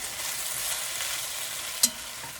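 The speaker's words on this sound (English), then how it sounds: "while the onion is sauteing" Diced yellow onion sauteing with pork in a pan gives a steady broadband sizzle throughout, with a brief sharp clink of a utensil near the end and no talking.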